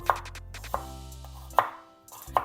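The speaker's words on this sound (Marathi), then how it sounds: "कांदा पण आपल्याला उभा उभा चिरायचा आहे" Four sharp knife strokes cutting an onion lengthwise on a board, spaced unevenly about half a second to a second apart, crisp and close, with no talking.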